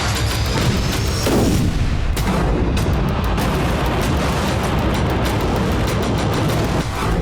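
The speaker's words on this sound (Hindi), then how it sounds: "यूक्रेन के लवीव क्षेत्र में विनाशक बारूदी वर्षा की गई।" Artillery explosions from Russian strikes on the Lviv region at night roll as a continuous loud, dense rumble with repeated heavy booms and crackling bursts that fill the whole stretch without letup.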